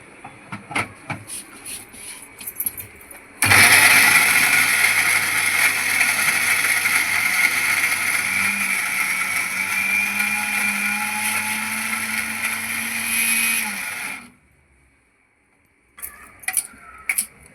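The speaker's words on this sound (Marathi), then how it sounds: "तर चला आता आपल्याला मिक्सरला लावून घेऊया आपण" A mixer grinder whirring loudly as it grinds roasted black sesame seed chutney with chilli masala and salt, one steady ten-second run that starts abruptly and stops with a sudden cut to silence.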